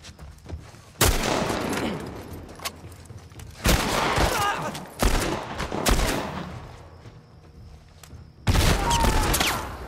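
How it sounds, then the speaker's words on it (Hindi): Loud bursts of gunfire in The Last of Us erupt in several separate volleys, each a dense crackle of rapid shots with fading echoes and quieter gaps between. "ओपन फायर करते हैं"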